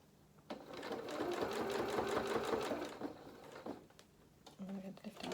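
A sewing machine stitches a quarter-inch seam on doll fabric, running steadily for about three seconds with a rapid mechanical whir, then stopping, followed by light clicks and handling sounds.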